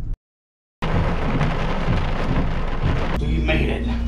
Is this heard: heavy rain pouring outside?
yes